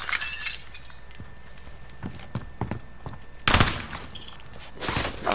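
Gunfire in a video game: sharp individual shots scattered through the clip, then a loud, cracking burst of rapid fire midway, followed by a few more shots.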